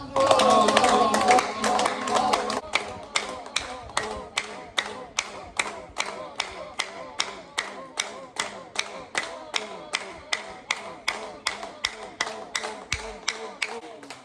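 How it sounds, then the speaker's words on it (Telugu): A group claps in a steady, even rhythm for a clap-chanting yoga exercise with Om chanting. Each clap rings crisp and close, after a brief opening stretch of voices and louder clapping. "క్లాప్ చాంటింగ్ చేస్తూ ఓం మంత్రం ఉచ్చరిస్తూ ఎక్కడైతే శబ్దం వస్తుందో అక్కడ చూస్తూ క్లాప్ చాంటింగ్ చేయాలి"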